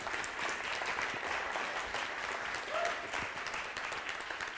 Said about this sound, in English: Okay, so let's start with a big round of applause.